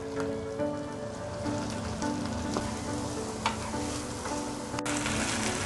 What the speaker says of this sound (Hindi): अब हम ऐड करेंगे चॉप अनियन